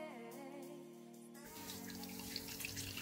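Homemade Coke ginger beer liquid pours steadily into a container, a continuous close wash of splashing and trickling after a brief lead-in, with no talk over it.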